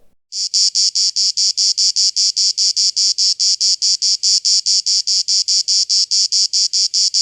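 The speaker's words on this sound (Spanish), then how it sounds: "el ruido común del verano era el del canto de las cigarras" Loud, steady pulsing buzz of cicadas, a rapid regular train of shrill chirps continuing without a break, close and dominant.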